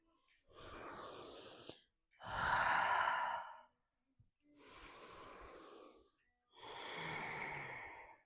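Slow, audible breaths during an intense vinyasa yoga session come close and clear. Four long breaths, inhales alternating with exhales, each lasts about a second and a half and is separated by short silences.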